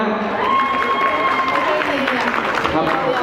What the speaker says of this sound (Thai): สุดยอดเขาจะปรบมือให้น้องหน่อยฮะ